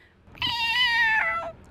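A person imitates a cat's meow with a single drawn-out, rising-then-falling mew lasting about a second, close and clear against quiet.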